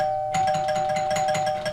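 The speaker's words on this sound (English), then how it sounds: "woke up to somebody ringing my doorbell and beating on the door" A doorbell chimes once at night in a quiet house, a bright close two-tone ring that lingers and fades, alone with no voices.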